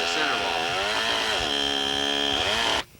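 A chainsaw cuts steadily through a half log being shaped for the center wall of a 28x44 log home: a loud, close, continuous engine whine that holds for nearly three seconds, then stops abruptly.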